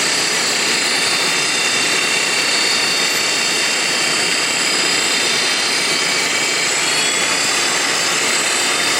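A Grizzly G0704 CNC mill spindle spins at high speed on a serpentine belt and pulleys, making a steady, loud, even whine and whir that holds for the whole stretch without talk.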